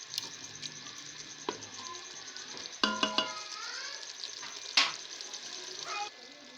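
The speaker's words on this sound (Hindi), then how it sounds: "फ्लेम थोड़ा सा और तेज़ करेंगे ताकि हम फटाफट से इन्हें भून लें" Pasanday meat roasting in yogurt and ghee in a pan over a raised flame makes a continuous sizzle, with sharp metallic clatters and scrapes of a spoon against the pan in bursts.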